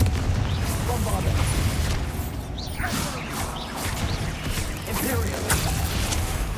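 Spell blasts from Confringo and Bombarda in the Hogwarts Legacy video game: dense, loud booming crashes and whooshing impacts over a rumbling low end, continuous throughout with a voice speaking over the action.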